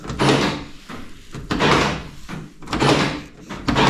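Replaced car doors with working central locking being opened and shut several times, a series of thuds and latch clunks in irregular rhythm, fairly loud and close with no talk.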